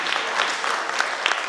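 An audience applauds performers at a Romanian folk customs and traditions festival, a brisk, loud patter of many hands clapping continuously and close by.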